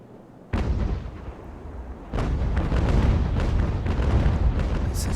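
Broadside cannon fire of round shot in the naval battle game Ultimate Admiral: Age of Sail, heavy booming blasts with a sudden onset and continuing rumbling volleys that stay loud throughout.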